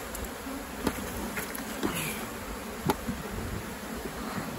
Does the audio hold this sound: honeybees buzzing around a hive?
yes